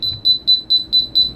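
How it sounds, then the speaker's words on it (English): A propane detector alarm aboard a trawler boat beeps six times in a steady rhythm, each tone short, shrill and loud, sounding alone over faint background noise. "if that thing gets a whiff of propane, the alarm goes off"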